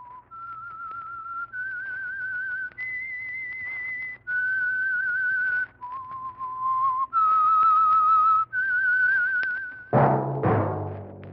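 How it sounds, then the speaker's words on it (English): A clear, tuneful whistle plays a short melody of sustained held notes, loud and close, ending with a brief burst of noise: the theme whistle of a 1947 radio broadcast. "That whistle is your signal"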